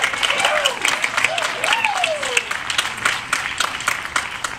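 Outdoor crowd applauding at a high school jazz concert in a park after a trumpet solo, continuous clapping with a few cheers and whistles rising above it.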